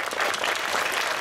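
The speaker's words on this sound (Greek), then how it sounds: "θέλω να κάνουμε ένα ξεχωριστό χειροκρότημα στα παιδιά από το αεροδρόμιο" An audience at a children's end-of-year church school celebration applauds the children, a brief dense burst of clapping from many hands, even and close.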